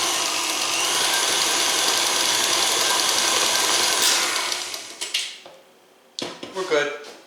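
An electric mixer beats vanilla extract into pumpkin bundt cake batter, a steady loud whir that winds down after about four seconds, followed by a few clanks of a whisk against the bowl.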